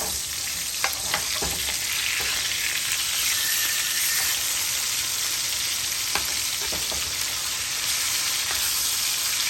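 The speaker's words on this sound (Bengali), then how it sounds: "সরিষার তেল দিয়ে ফ্রাই করতেছি সরিষার তেল দিয়ে তোমার ফিস ফ্রাই করলে ফিস ফ্রাইটা মজা হয়" A piece of rohu fish fries in mustard oil with a loud, dense, continuous sizzle, broken by a few sharper crackles and pops; no voices are heard.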